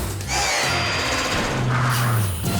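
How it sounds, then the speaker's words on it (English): Cartoon rescue scene with a drill boring post holes for a landing pad: a steady mechanical whirring drone runs through the whole clip, with a deeper grinding buzz rising toward the end, loud and close. "Zuma, drill post holes over here."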